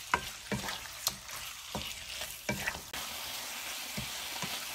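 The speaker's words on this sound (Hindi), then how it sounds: "अब जो चिकन मैंने मैरिनेट किया था वो मैं इसमें ऐड कर दूंगी। बस इसे 2 से 3 मिनट तक हम चम्मच के साथ चलाएंगे" Marinated chicken pieces fry with garlic in a hot pan, a steady sizzle running throughout while a spoon scrapes and stirs in repeated sharp strokes, close and fairly loud.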